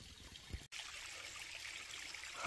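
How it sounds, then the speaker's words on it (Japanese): A small mountain stream and little waterfall trickle and babble steadily near a giant katsura tree, a soft continuous flow of water heard up close with no voices. "聞こえます、水のねせせらぎ"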